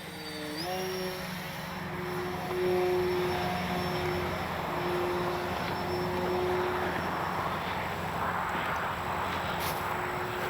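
An FMS Ranger 1220 radio-controlled plane flies overhead, its electric motor giving a steady whining drone with shifting pitch, moderately distant and continuous throughout, with no speech.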